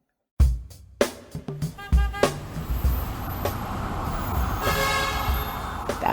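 Busy street traffic in Metro Manila, with a sudden onset of several sharp car horn toots and honks over a steady rumble of engines and vehicles, loud and close.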